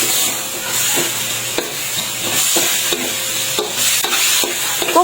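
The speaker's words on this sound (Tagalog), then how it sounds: "Nilagay ko na rin dito ang napritong manok at saka ko minekos-mekos saglit" Fried chicken is stirred in a pan with soy sauce, liquid seasoning and oyster sauce, giving repeated close scraping and clacking strokes of a utensil over a continuous loud sizzle.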